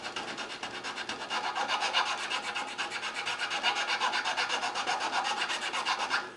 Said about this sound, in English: you can come back with this finer rasp